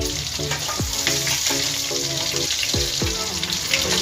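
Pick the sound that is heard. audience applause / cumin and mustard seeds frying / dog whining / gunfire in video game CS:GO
cumin and mustard seeds frying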